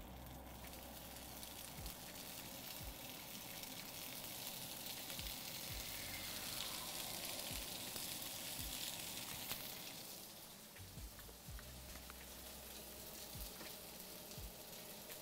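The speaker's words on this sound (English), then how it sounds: "So when I drop this in, it should sizzle." Food sizzles in a hot pan while dinner is cooked, a steady, loud frying hiss that carries on without talk.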